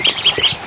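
Small Muscovy ducklings huddle under a heat lamp with older ducks, giving a rapid series of loud, close, high peeps with soft lower squawks mixed in.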